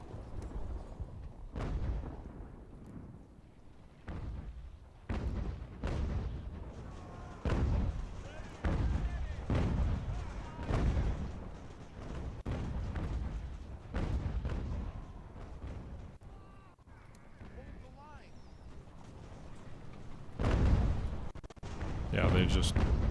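Artillery in Ultimate General: American Revolution fires a canister salvo, repeated booming blasts and rumbles at irregular intervals across the battle, with someone talking over much of it.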